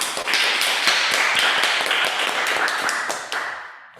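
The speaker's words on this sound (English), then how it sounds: "A round of applause." A round of applause for a speaker joining a virtual stage at an online club meeting, with crisp, close clapping that runs steadily for about three seconds before tapering off.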